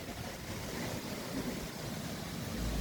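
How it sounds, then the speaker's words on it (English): Steady broadband wind noise buffets the microphone outdoors under a severe thunderstorm warning with possible 70-mph gusts, a continuous rushing roar with no pauses and no talking. "it is kind of windy"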